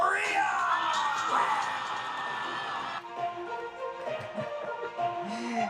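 A venue crowd erupts in loud, sustained cheering, whoops and yells at the Miss Earth 2022 crowning, a dense roar filling the whole stretch with shouting voices rising above it.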